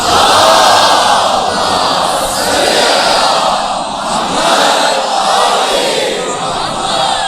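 A large religious gathering at an Islamic sermon answers in unison with loud salawat, a roaring wall of many voices swelling and dipping continuously throughout, close and dense.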